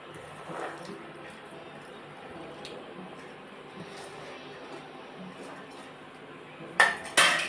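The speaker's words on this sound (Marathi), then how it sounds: "चला आता याच्यामध्ये आपण ही सगळी फळं टाकून घेऊया" Faint clinks of dishes and cutlery as fruits go into a chilled homemade summer dessert, soft and scattered, with two sharper clatters near the end.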